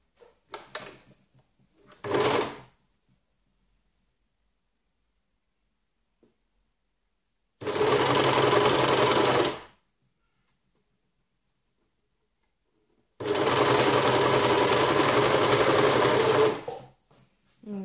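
Sewing machine stitching a dog shirt runs in two long, loud bursts of rapid mechanical stitching separated by silence, with a few short taps and a brief whir at the start.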